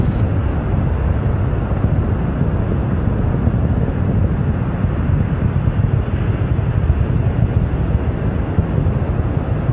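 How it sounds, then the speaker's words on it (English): Space Shuttle Endeavour's three main engines at full throttle during an STS-100 launch, a loud, continuous broadband roar with crackling rumble that holds steady throughout. "Three engines now throttling back up to full throttle"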